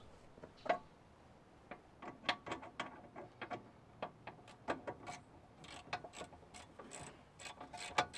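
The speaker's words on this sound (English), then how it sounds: "so you just want to go ahead and tighten up your two caliper bolts" A ratchet tightening car brake caliper bolts, producing quick runs of sharp mechanical clicks in bursts with short pauses, fairly close but quiet.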